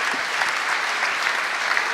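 Steady, dense applause from an audience after a startup pitch to investors, a continuous even roar of clapping hands throughout.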